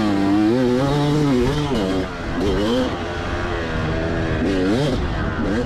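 A 2004 Kawasaki KX250 two-stroke dirt bike engine revs up and down in repeated rising and falling sweeps, loud and close, with a raspy buzzing tone throughout.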